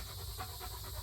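A big dog pants with quick, regular breaths, faint and close. Fireworks had been going off shortly before, and no one speaks.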